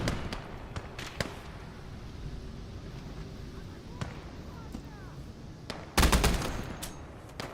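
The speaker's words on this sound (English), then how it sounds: "devastating machine gun, absolutely devastating" A heavy machine gun fires in the WWII game Gates of Hell: Ostfront, set at Kerch in May 1942: sharp rapid bursts at the start, scattered single shots in the middle, then a loud close burst near the end.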